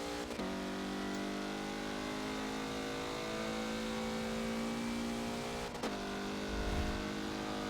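A race car in the Forza racing game accelerates on the Suzuka West track, its engine holding a steady high drone before a quick gear change and then pulling on again, loud and continuous throughout.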